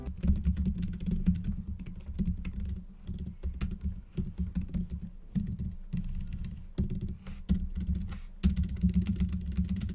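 Steady clattery typing on a compact Brydge keyboard case for an iPad mini, quick keystrokes in uneven bursts with brief pauses, close and clear with no voices.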